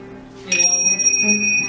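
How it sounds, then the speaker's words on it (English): Small metal wind chime bells ring out with a bright shimmering strike, sustained tones lingering over a low background hum. "so wind chime, like you could hear the metal"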